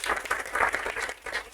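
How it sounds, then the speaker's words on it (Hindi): An audience applauding a teacher at an open seminar, with dense, enthusiastic clapping from many hands that rises and falls briefly without any talk over it. "सर के लिए एक बार जोरदार तालियां बजाइए आप सब लोग"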